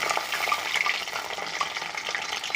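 Nakshi pitha, a patterned rice cake, fries in oil in a pan over medium heat, giving a steady close crackling sizzle with faint stirring, no talk.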